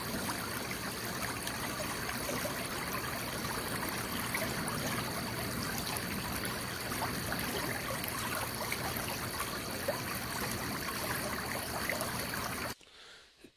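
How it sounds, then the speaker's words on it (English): Quiet running water recorded dry and unprocessed, a steady close hiss and burble of flowing stream water that holds constant and cuts off abruptly just before the end. "we recorded some water"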